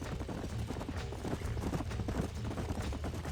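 Horses' hooves clip-clop at a steady, continuous pace in Red Dead Redemption on PS4, a dense galloping rhythm close up under an outdoor game soundscape.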